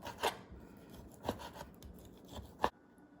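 A knife slicing Black Angus beef into small pieces for spicy beef, heard as a few sharp, close cutting strokes against a board, spaced irregularly over steady faint kitchen background.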